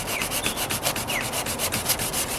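Sandpaper is worked back and forth over the trunk of a 1998 Toyota Corolla outdoors before a rattle-can paint job, in quick, even rhythmic strokes, close and unaccompanied by talk.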